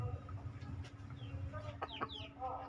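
Roosters in a farm setting cluck in short, scattered calls over a steady low background hum, fairly close and moderately loud.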